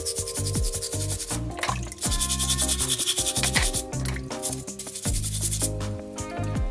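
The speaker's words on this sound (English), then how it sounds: "Now I'll just use a wire brush to scrub off the surface." A wire brush scrubs the surface of a seashell in fast, rhythmic rasping strokes, close and fairly loud, with short breaks between passes.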